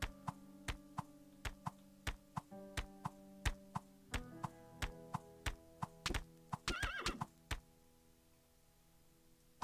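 Video game horse in Keplerth: sharp, evenly spaced hoof clops at a brisk trot with tonal game sounds, then a shrill neigh breaks in near the end before the hooves fade out.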